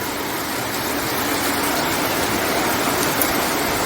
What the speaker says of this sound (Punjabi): ਮੀਂਹ ਪੈ ਰਿਹਾ ਜੋਰਾਂ ਤੇ